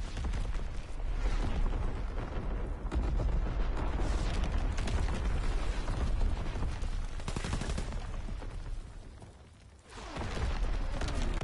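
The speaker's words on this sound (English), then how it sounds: "Incoming enemy artillery, get to cover." Enemy artillery fire in a World War II Call of Duty team deathmatch, a continuous heavy barrage of booms and gunfire rumbling loudly, dipping briefly near the end before surging again.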